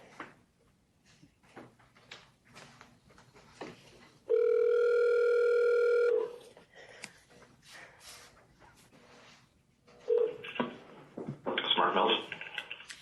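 A telephone line gives a steady, loud dial tone for about two seconds while a caller is connected to a forensic science commission meeting, with quiet clicks and handling noises before and after.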